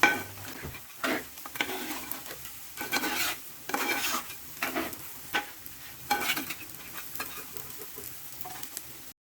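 A coconut milk mixture reducing in a pan is stirred steadily, giving rhythmic scraping and swishing strokes over a low sizzle, close and fairly loud, with nobody speaking.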